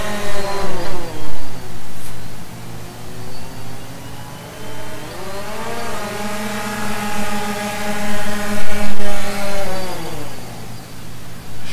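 DJI Phantom drone with landing gear skids taking off and landing nearby, a loud whining rotor buzz whose pitch rises and falls as it lifts and settles, with wind buffeting.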